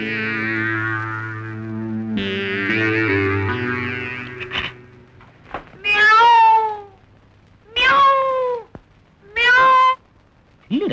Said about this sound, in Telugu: లోన పిల్లి పెట్టి మూసేసి వెళ్ళిపోయింది.